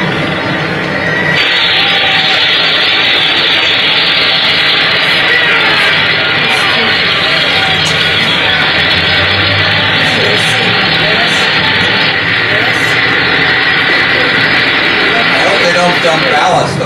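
Engines of the Graf Zeppelin LZ 127 airship roar from an old film soundtrack, a loud, steady, continuous drone that holds unbroken throughout.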